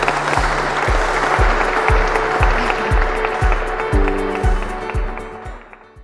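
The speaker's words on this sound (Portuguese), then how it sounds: "uma salva de palmas" Guests at a wedding ceremony break into loud, sustained applause, with dense clapping close by and a rhythmic low thumping underneath that fades toward the end.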